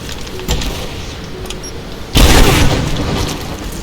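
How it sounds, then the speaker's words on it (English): A heavy explosion blasts apart a metal barrier in Rise of the Tomb Raider, a sudden loud boom that rings on after a quieter thud and low game ambience. "Metal barriers use explosives to destroy metal barriers."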